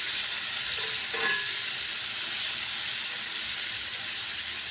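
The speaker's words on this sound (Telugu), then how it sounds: "ఆనియన్స్, కొంచెం ఫ్రై అవ్వనిస్తాను" Onions and mixed vegetables frying for prawn fried rice, a loud, continuous sizzle and hiss with a brief stir partway through, no voices.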